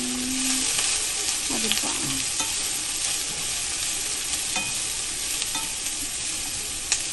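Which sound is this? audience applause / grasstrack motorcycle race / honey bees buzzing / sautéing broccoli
sautéing broccoli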